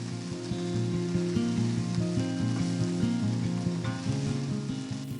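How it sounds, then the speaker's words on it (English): Crumbled tofu sautéing in chili oil crackles with a dense, steady sizzle and popping, close and loud, with faint stirring scrapes throughout. "Carefully place in the crumbled tofu. Saute for 4 to 6 minutes to get a little bit of a nice crispy crust."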